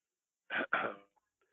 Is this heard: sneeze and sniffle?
yes